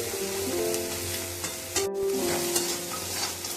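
Mixed vegetables, including beans, frying in a pan for sago pulao, giving a steady close sizzle with some stirring and scraping, with tonal music playing underneath throughout.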